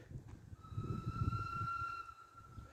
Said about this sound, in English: That sounds like Lady's Whistle from Thomas and the Magic Railroad, doesn't it?